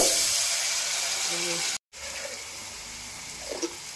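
Water pours in a steady rushing hiss into a pot for tomato rasam, cut by a brief pause, then continuing with a faint clink near the end.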